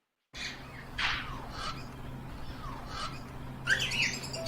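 Parrots at a bird sanctuary give several loud, harsh squawks and whistling calls at moderate distance, spaced a second or two apart, with a denser burst of squawking near the end over a low background hum.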